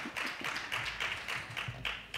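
An audience applauding at a gender-equality school day inauguration, dense continuous clapping with a rapid patter of individual hand claps, steady and fairly close throughout.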